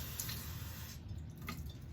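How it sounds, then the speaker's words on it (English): Water poured into a dish of candied yams topped with butter, a short faint trickle and splash with a couple of drips, alone without speech. "we're just going to take us a little water."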